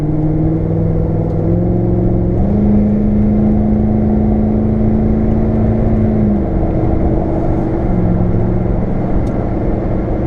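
Car engine idling and running steadily while a B&M Quicksilver ratchet shifter is worked through gears, a loud low hum whose pitch steps up and down with no revving bursts.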